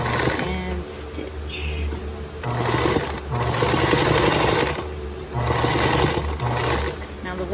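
A sewing machine stitching a quilt block, running in several sustained whirring bursts with short pauses between them, close and loud, with a person talking in between.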